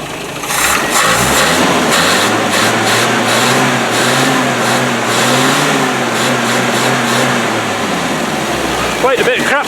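A Land Rover 90 engine cranks and catches, then runs with a rising and falling rev pitch for several seconds, close and loud, before dropping off near the end, with voices speaking over it.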